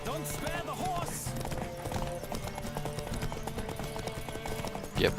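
Hooves clatter in a fast, steady gallop during a horse race in The Witcher 3, set under game music and shouted voices, with a brief louder burst at the very end.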